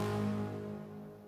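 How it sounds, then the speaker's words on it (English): Synth pluck made in Vital from a basic saw wave modulated by several LFOs, for a trap beat; a single bright harmonic tone sounds alone, loud at first and then slowly decaying. "I put in this little pluck thing over here"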